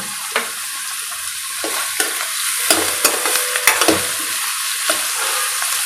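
Onions with salt fry in a pan, a steady close sizzle broken by repeated scraping stirs and utensil knocks, with no talking.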